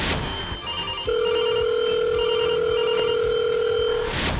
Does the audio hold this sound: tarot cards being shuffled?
no